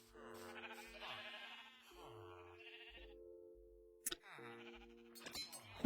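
Sheep bleat on a farm in a few drawn-out, wavering calls, fairly close and moderately loud, with brief gaps and a sharp knock near the end.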